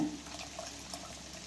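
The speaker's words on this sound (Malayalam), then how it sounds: "ഇനി ഇതിലേക്ക് നമ്മൾ ശർക്കര പാനി ഒഴിക്കും" Liquid jaggery syrup pours into a pan of parippu payasam with ghee, a soft trickling and gurgling stream at close range, fairly quiet, with no talking.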